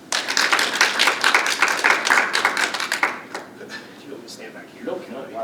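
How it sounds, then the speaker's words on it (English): Applause from a breakfast meeting audience greeting a chamber of commerce speaker: a few seconds of brisk, close clapping that thins out to scattered claps, with voices murmuring underneath. "Please give him a round of applause."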